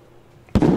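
A single loud firework burst in the Roblox game The Wild West, starting with a sudden crack after a quiet stretch and then a sustained crackling roar.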